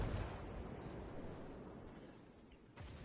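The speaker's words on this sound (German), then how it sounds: "von überall kommen jetzt da die Schüsse rüber" Naval artillery in World of Warships rumbling as a dense, continuous barrage of distant gunfire, with a sharper blast near the end.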